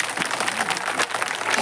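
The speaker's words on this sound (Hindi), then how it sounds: "एक बार अपने लिए आप सभी ताली बजा लीजिए।" An audience claps together at a Ram Katha religious gathering, a brief burst of dense, steady applause from a crowd with no talking.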